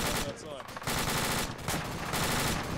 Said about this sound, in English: something is shooting us from the right